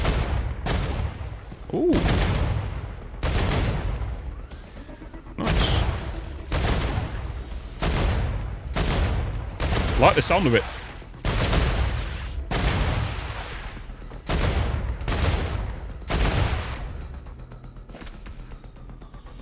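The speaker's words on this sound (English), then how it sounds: "Let's try the light machine gun." Light machine gun fire in the Star Rupture game, loud repeated bursts of automatic shots with short pauses between them, and a man briefly reacting over the gunfire.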